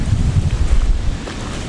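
Wind gusts outdoors at a campsite in a state park in north central Iowa, buffeting the microphone with loud, steady low roaring and rumbling and no voices.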